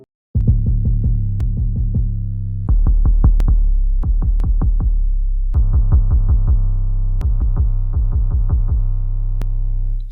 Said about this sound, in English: let's just start first with the 808